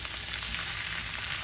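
Chinese vegetables tossed into a pan over high heat give a loud, dense, continuous sizzle at close range, with no talking over it.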